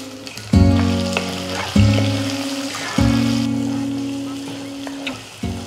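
Small onions sizzle in hot oil with garlic for Chettinad okra tamarind gravy, a steady close frying hiss beneath a series of ringing, sustained tonal notes that strike at intervals.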